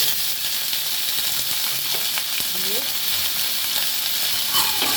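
Potato and cauliflower sizzle and fry in a hot pan, a steady close hiss with occasional stirring scrapes throughout.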